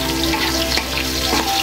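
Garlic sizzles loudly in a hot pan, a dense continuous frying hiss close up, with a couple of brief scraping stirs breaking through.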